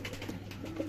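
Pigeons in a Lahore loft coo softly, a brief low murmuring over a steady background hum.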